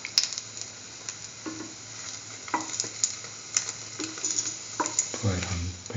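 Chickpea, tomato and chili mixture sizzling softly in a pan while being stirred around, with repeated scraping strokes and a low steady frying hiss throughout.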